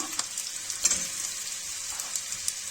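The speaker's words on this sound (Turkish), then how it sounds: "Yine bunları da fazla kızartmadan ters çevireceğim." Meatballs fry in oil in a pan, a steady close sizzle and crackle with a few sharper pops and light stirring clicks.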